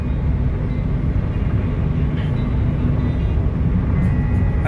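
Steady, heavy rumble of a Union Pacific freight train at a railroad crossing near Eloy, Arizona, loud and continuous with a faint clank or squeal near the end.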